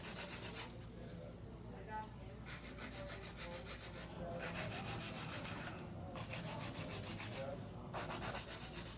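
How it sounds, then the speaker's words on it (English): An acrylic nail is filed with a 100 grit file in quick, even back-and-forth strokes, a soft, close scratching rasp with short pauses between bursts. "Let's use 100 grit. First thing to do is bring in the sides."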